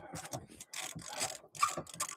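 A gritty car seat track on a Nissan Altima slides back and forth, giving a rough rasping scrape in short repeated strokes with brief pauses between them, close and fairly quiet with no talking.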